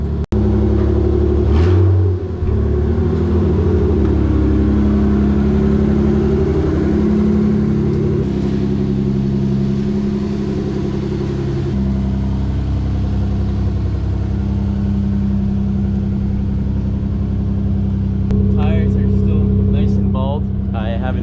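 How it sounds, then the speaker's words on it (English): A car engine idles with a steady low rumble for a long stretch, briefly revving near the start, with some talking over it. "pulling out the car right now, letting her warm up a little bit"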